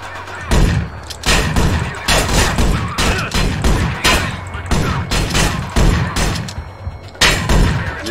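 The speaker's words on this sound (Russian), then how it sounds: "Это прям вообще мощный дроботан." Shotgun fire in the video game Manhunt: a rapid series of loud, heavy booming blasts, one after another, with little pause between shots.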